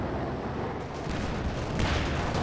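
Battle gunfire from a Company of Heroes match as a Bren gun and a veteran MG42 trade fire, a dense continuous roar of shots and explosions with no clear individual bursts.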